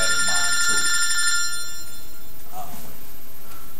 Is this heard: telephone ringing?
yes